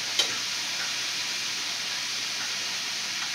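Chicken livers fry in hot grease in a pan, giving a steady, dense sizzling hiss that holds evenly from start to finish, close by with one small pop near the start.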